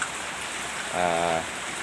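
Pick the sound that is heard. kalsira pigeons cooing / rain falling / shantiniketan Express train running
rain falling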